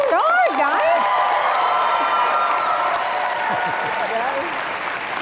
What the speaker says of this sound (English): Let's give them a round of applause before we even start